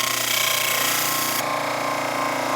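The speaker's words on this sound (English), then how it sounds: "I'm going to use this big felt wheel, or little felt wheel, on this old motor that I have" An old electric motor spins a small felt polishing wheel loaded with coarse brown compound, giving a loud steady whirring hum with a rubbing hiss that changes tone abruptly partway through.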